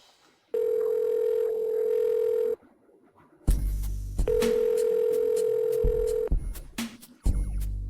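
A telephone call is placed: a steady held tone sounds, then a brief gap with button tones, then another long tone, ending in short chopped beeps and clicks, all loud and close.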